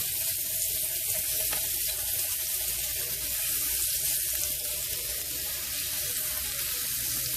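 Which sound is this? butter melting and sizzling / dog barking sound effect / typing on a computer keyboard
butter melting and sizzling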